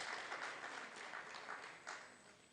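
Audience applause at a public presentation of an annual report, a steady wash of many hands clapping at moderate distance, fairly soft and even throughout with no voices over it.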